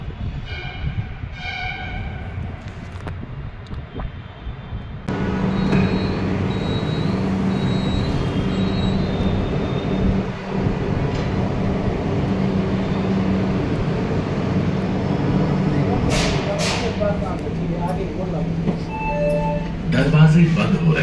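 Rapid Rail train on an elevated line in Uttar Pradesh, a steady rumbling hum of the moving train that grows louder after a few seconds, with chimes and faint announcements over a continuous roar.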